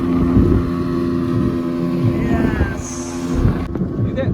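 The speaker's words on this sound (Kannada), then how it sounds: "ಇದೇ ಬೋಟು ನಮ್ಮದೇ ಬೋಟ್ ಥರ ಆಗಿರೋದ್ರಿಂದ ಮೇಲಿದ್ದೀವಿ ನಾವು ಬೋಟಲ್ಲಿ." A motorboat carries passengers at Gokarna where the Aghanashini River meets the Arabian Sea, its engine a loud, steady drone mixed with rushing wind and water, with faint voices in the background.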